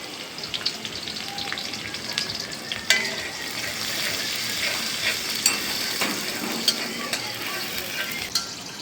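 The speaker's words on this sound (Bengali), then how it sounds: "তেল গরম হয়ে গেছে দিয়ে দিব পেঁয়াজ কুচি" Chopped onion fries in hot oil with a steady, close crackling sizzle, broken by occasional sharp clinks and scrapes of a utensil stirring the pan.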